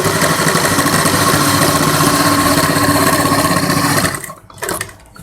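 A sewing machine stitches a puff sleeve for a suit in a loud, steady mechanical whir that runs continuously, then slows and stops near the end with a brief restart.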